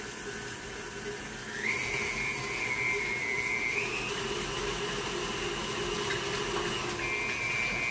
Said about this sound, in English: I'm using my KitchenAid because it's easy. And I'm using the whisk beater because it gets it more creamy